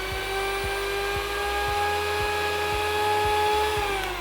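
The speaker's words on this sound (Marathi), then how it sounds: "आपण हे जे क्रीम आहे ते अजून 1 मिनिटभर फेटणार आहोत" An electric hand mixer whips cream with a loud, steady high-pitched motor whine, close up and constant, with a faint rhythmic ticking of the beaters against the bowl throughout.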